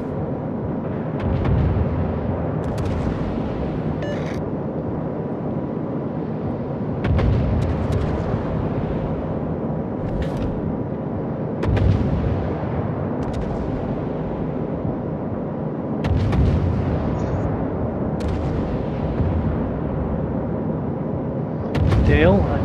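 Warship gunfire in the video game World of Warships during a clan battle, with repeated deep booming salvos every few seconds over constant engine and sea rumble.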